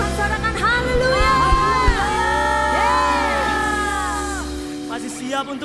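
A church congregation shouts and cheers together in a loud, sustained crowd roar, with voices rising in whoops through the worship service, filling the space before fading near the end.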